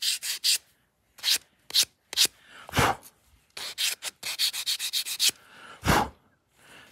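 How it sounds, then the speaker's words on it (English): Close, rhythmic hand sanding with 220 grit sandpaper, rounding over the edges of a miniature wooden table. Short raspy strokes come in quick bursts separated by brief pauses, with no talking. "Actually, let me take my 300 grit sandpaper. Or 220, sorry. And I'm just going to round over these edges a little."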